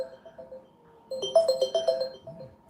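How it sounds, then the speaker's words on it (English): A phone rings with a melodic ringtone for an incoming call, a rising run of repeated electronic tones, moderately loud and close, after a faint quieter chime in the background. "Guys, I have a phone call coming in, so give me a minute."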